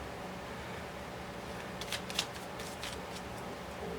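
Tarot cards are shuffled briefly in a soft, close riffle lasting about a second, set against faint steady background hiss.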